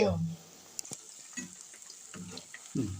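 Banana slices frying in hot oil for a crispy Kerala tea-time snack seasoned with Kashmiri chilli powder, a steady soft sizzle with a few louder stirring bursts and clicks.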